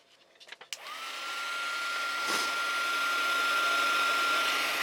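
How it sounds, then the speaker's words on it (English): A handheld craft heat tool clicks on and spins up, then blows a steady, close whooshing hum while melting embossing powder on a stamped card; faint handling noises come before it starts. "Now with my heat tool, I'm going to turn this on and we're going to melt the sentiment."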